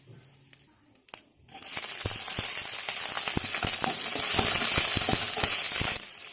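Green chillies hit hot oil in a pan and burst into loud, crackling sputters with sharp popping spits. It starts after a few quiet clicks, keeps up continuously for several seconds, then eases off slightly at the end.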